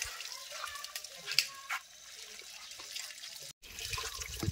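Water splashes and trickles as an iron power tiller with rust on it is washed and scrubbed, a fairly quiet continuous wash with a few brief knocks and no speech.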